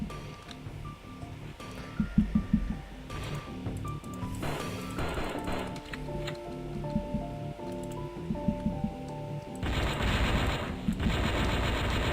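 Battle turret gunfire in the video game Strike Force Heroes 2, rapid clattering shots over game music and effects, growing denser and louder near the end.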